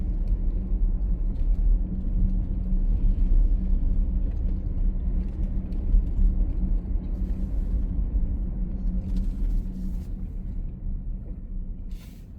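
Steady low rumble of road traffic on the streets of Los Angeles, heard continuously and fairly loud, with engine drone and tire noise throughout.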